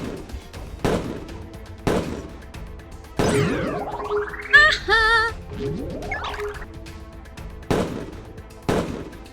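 Gunfire in the video game Play Together: sharp, loud single shots about a second apart, with a cluster of sweeping, warbling electronic effects in the middle before the steady shots return.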